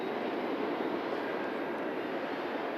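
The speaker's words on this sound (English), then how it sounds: "Mega arrival. Turkish Airlines, Airbus A330, coming in from Istanbul." Turkish Airlines Airbus A330 jet arriving at Manchester Airport from Istanbul on a cold, moody morning, a steady broadband engine roar that stays loud and even throughout, with no voices.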